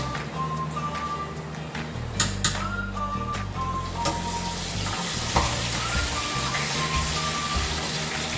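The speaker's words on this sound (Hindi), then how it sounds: "साथ ही हमारी प्याज ब्राउन हो रही है।" Onions browning in oil in a pan for beef nahari give a steady close sizzle and crackle, with a few sharp stirring scrapes and clinks mixed in. Nobody speaks.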